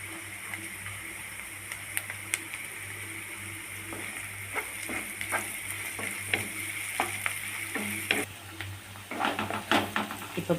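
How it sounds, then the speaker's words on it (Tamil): Garlic and onion fry in a pan for a Tamil small-leaf greens (keerai) thokku, a steady close sizzle with occasional stirring clicks and utensil taps running throughout. "இப்போ பூண்டும் வெங்காயமும் நல்லா வதங்கிடுச்சு."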